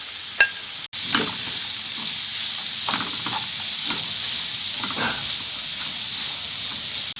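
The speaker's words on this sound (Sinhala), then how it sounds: "දැන් මේකට බැදගත් බිත්තර, බැදගත් චිකන් එකතු කර හොඳින් කලවම් කරන්න." Fried egg and chicken are tossed into a sizzling pan for spicy chicken noodles, with a steady loud fry hiss broken by repeated scraping stir strokes and a sharp clatter near the start.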